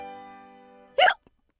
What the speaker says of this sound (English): I don't think my hiccups are the kind that get scared away.